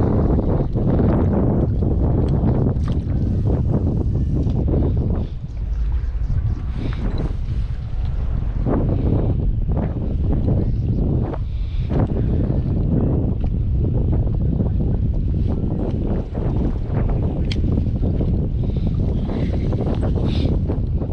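Strong wind buffets the microphone on a kayak out fishing on western Long Island Sound, a loud continuous rushing roar with gusty surges and water slapping beneath, no one speaking.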